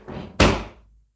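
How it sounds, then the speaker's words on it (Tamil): A door slams shut with a single loud, close bang that rings out and decays within about half a second, following faint background noise. "ஏய் கதவு போடா."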